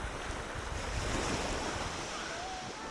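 Steady wash of waves rolling onto the sandy beach of Ko Adang, Thailand, with breezy wind noise over the microphone and no voices.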